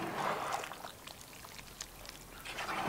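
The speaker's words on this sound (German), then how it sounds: "Mal umrühren." Irish stew being stirred in a Dutch oven, giving a faint, continuous wet sloshing and scraping that runs steadily for a few seconds.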